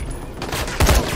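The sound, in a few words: gunshot in video game Dying Light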